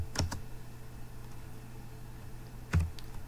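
Fingers type a command on a computer keyboard: two short, faint clusters of clicking keystrokes separated by a quiet pause, with no talking.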